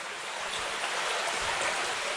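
Water rushing steadily through the sectioned culvert beneath a railway line, a dense continuous hiss of flow heard close and alone with no voices.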